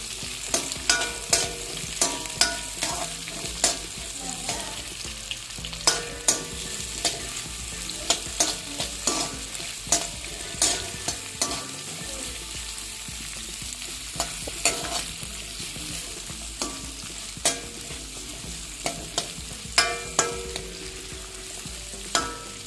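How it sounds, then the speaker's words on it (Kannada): Chopped onions frying in hot oil for tomato chutney, a constant close sizzle punctuated by frequent rhythmic knocks and scrapes of a spoon stirring the pan, with no talking. "ಎಣ್ಣೆ ಕಾದ್ಮೇಲೆ ಕಟ್ ಮಾಡಿರೋಂಥ ಈರುಳ್ಳಿ ಹಾಕ್ತಾಯಿದ್ದೀನಿ. ಈರುಳ್ಳಿ ಹಾಕಿದ್ರೆ ಸ್ವಲ್ಪ ಫ್ರೈ ಮಾಡೋಣ."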